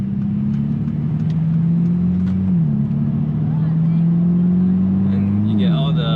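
Passing cars at a roadside car meet, heard from inside a moving Mercedes-Benz SLC 300 convertible, the steady drone of its engine and road noise dominating as it shifts gears twice, with outside traffic faint beneath.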